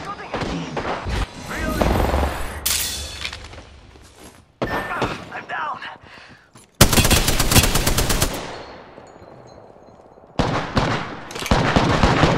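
Rapid video game gunfire in Apex Legends, repeated bursts of automatic shots and sharp single cracks in loud clusters with brief gaps, close and dominant, with a voice speaking at times underneath.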